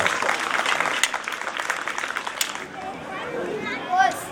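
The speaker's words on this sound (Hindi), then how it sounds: "अरे जोरदार तालियों से आवाज" Loud, steady applause from a crowd at a school sports show at Iqra Public School, Neamatpur, during a girl's glass-breaking stunt, with cheering voices and chatter mixed in, easing off near the end.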